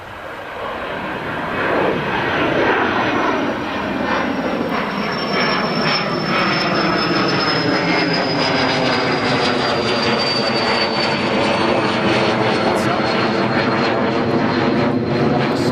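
A Hawker business jet taking off at Newcastle International Airport, its engine roar swelling loud and steady with a shifting whine, heard from the ground for a long stretch.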